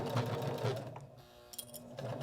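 A sewing machine stitches around the edge of a small fabric nail file holder, running in a steady close whirring hum that slows and pauses briefly before starting again in short bursts.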